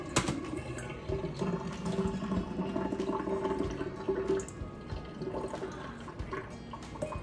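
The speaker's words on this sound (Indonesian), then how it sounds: "Terus aku tuang di sini untuk meniriskan airnya ya." Water is poured off freshly washed food into a strainer to drain in a home kitchen, making a soft, continuous splashing and trickling stream with a few drips, fairly quiet and steady throughout.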